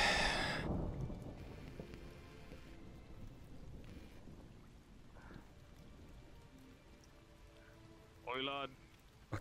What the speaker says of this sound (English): We're enjoying the rain. Fucking pouring.